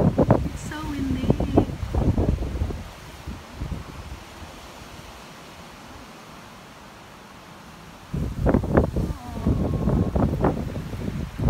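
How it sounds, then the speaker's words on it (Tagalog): Strong wind gusts buffet the microphone outdoors beside a fruiting apple tree, with rustling in loud bursts at the start and end and a calmer stretch between, while someone talks over much of it. "It's so windy."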